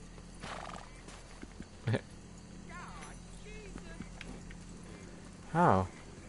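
A horse in Red Dead Online whinnies and snorts during grooming, two distinct neighs standing out near the start and end over a quiet game background, with faint hoof clops between them.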